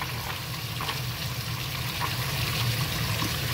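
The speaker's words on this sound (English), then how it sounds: "And see, you've got hot water." Hot water running from a tap just after a Rinnai tankless water heater and valve kit installation, a steady broadband hiss and splash of flowing water at moderate level, continuous without talk.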